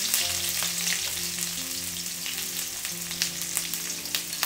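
Onion frying in a pan with chili and bay leaves for a spicy Manipuri beef curry, a steady close sizzle with occasional stirring clicks, no voices.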